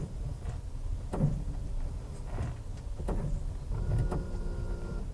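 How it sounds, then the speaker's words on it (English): A 2019 Toyota RAV4's brakes emit low, repeated whirring, drill-like pulses with soft clunks, faint and irregular, with no voices over them. "Then you get that drilling sound."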